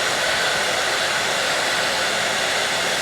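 A hair dryer blows steadily and loudly close by, drying glitter fabric glue on shoes, a continuous even rush with no breaks or talk.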